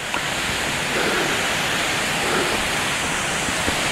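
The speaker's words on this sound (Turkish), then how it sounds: "Şuradan bir kaynak suyu dökülüyor zannedersem." Spring water pours down a rock face like a waterfall in Africa, a loud, steady, broadband rushing roar that stays constant and close throughout.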